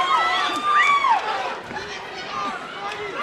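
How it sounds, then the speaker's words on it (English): A boxing crowd cheers and roars steadily throughout, loud and close, with whistles and shouts rising over the noise. "crowd's getting behind it now."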